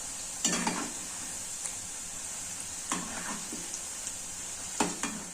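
Pakoda batter of toor dal flour, chili powder and rice flour being stirred in a bowl, a few soft, faint scraping strokes over a quiet, steady background hiss.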